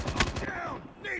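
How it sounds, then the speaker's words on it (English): Minigun fire in a mobile shooter video game, a brief rapid rattling burst that is fairly faint and over quickly, with a voice heard alongside it. "Some guy's got a minigun."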